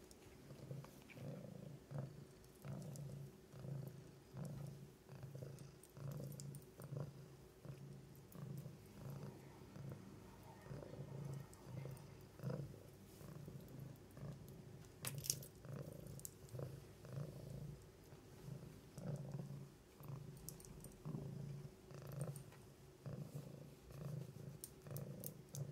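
A cat purrs steadily and close, its soft, rhythmic rumble rising and falling with each breath for the whole stretch in a quiet room.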